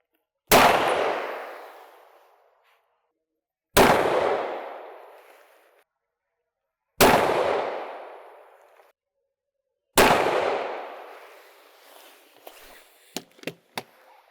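Four 9mm Luger pistol shots fired at a house wall, each a sharp, loud crack with a long decaying echo, evenly spaced about three seconds apart, followed by a few light clicks and clatters.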